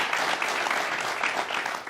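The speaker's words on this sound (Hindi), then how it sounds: "जरा तालियां बजा के हमारे मेहमानों का स्वागत कर दीजिए" Steady audience applause at a televised town hall event welcoming guests, dense and continuous clapping from a crowd with no talk over it.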